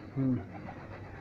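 A brief low cooing call from a racing pigeon, loud for a moment, then fading into faint outdoor background noise.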